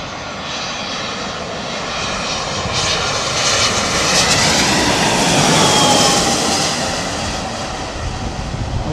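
An Airbus A350 jet airliner roars past at an airport, its engines making a loud, steady broadband rumble and whine that swells to a peak mid-clip and then slowly eases off.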